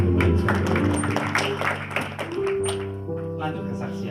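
Members of an Indonesian church congregation clap in a quick, busy patter beneath loud sustained music chords, the clapping thinning slightly partway through.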